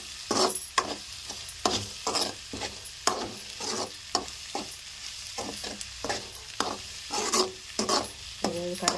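Garlic and ginger fried in a pan for a tamarind, onion and egg curry, with a repeated scraping stir and a bright sizzle, close and fairly loud throughout, no talk.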